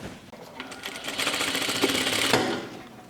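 A sewing machine runs a few seconds of continuous stitching along a shirt cuff, a fast even mechanical whir that builds after a brief start and then stops abruptly.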